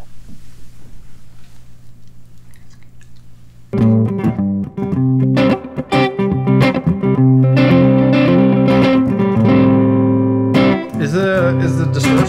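An electric guitar played hard through a heavily overdriven, distorted tone. Quiet low hum at first, then loud sustained chords and riffs with sharp attacks and brief pauses.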